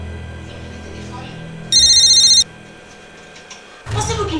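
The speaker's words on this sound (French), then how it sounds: "Ah, le téléphone." A telephone rings once with a loud electronic trill, alone for under a second over quiet background music, followed by a clatter as the handset is picked up.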